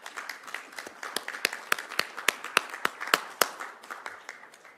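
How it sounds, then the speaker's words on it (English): A small crowd at a city council meeting claps in a steady, moderately paced round of applause for a family, distinct individual claps, fairly quiet and alone without talk, tapering off at the end. "Could we give my family a round of applause?"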